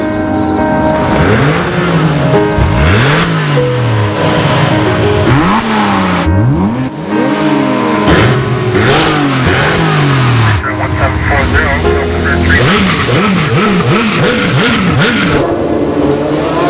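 A Porsche Cayenne GTS engine revs loudly in repeated rising and falling sweeps, with a narrator speaking over the engine throughout.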